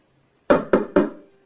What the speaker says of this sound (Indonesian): Terdengar suara ketukan dari luar.